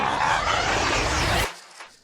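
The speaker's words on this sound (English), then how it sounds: "there is still in this project this big old transition, which sounds like this" In an electronic music track, a big transition effect rises as a dense, bright noise wash that swells for about a second and a half, then cuts off sharply and leaves a faint tail.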